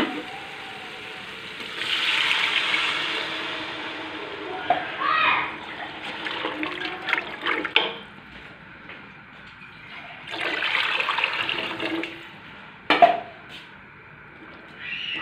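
Water from a glass poured into a cooking pot for matar pulao, two glassfuls added in bursts of splashing and gushing, fairly close, with quieter kitchen handling noises between pours.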